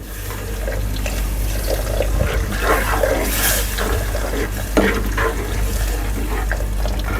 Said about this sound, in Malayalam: അപ്പോൾ ഒരു ശകലം സ്വല്പം വെള്ളം ഒഴിച്ച് വെക്കണം.